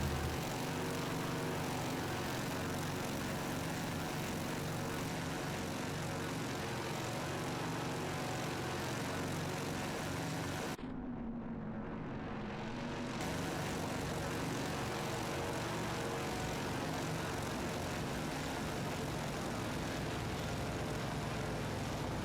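Boeing 247D twin propeller engines in Microsoft Flight Simulator 2024, a steady, faint droning hum that runs throughout with a brief dip partway through.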